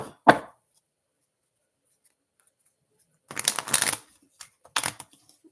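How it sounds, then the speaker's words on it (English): Tarot cards shuffled during a live reading: a quick riffle, then a longer burst of shuffling and a couple of short follow-up flicks, close and crisp in otherwise quiet surroundings. "Shuffle these back in."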